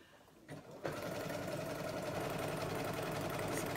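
A sewing machine starts up after a brief scrape and then runs continuously, a fast even mechanical chatter and hum, stitching applique around a curve close by with no talk.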